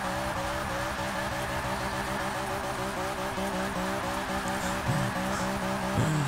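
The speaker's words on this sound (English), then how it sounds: "I love these rolling burnouts" Tires on a BMW E36 M3 (1997) squeal continuously during a rolling burnout in Forza 6. The engine roars loud and steady underneath, and the noise rises slightly near the end.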